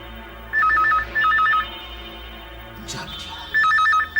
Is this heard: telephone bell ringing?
yes